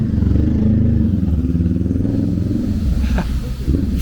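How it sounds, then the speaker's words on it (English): A motorbike cuts across a public footpath in Kensington and Chelsea, London, its engine a loud, close, steady drone that runs throughout with a rattling edge near the end. "That was a guy on a motorbike who just decided to drive across the public"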